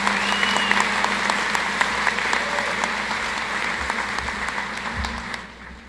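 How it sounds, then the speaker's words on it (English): Sustained applause from a college commencement audience in Roane State, honoring academic achievement award winners, a dense steady clatter of many hands filling the hall before gradually tapering off at the end. "Please give a round of applause for our Academic Achievement Award winners."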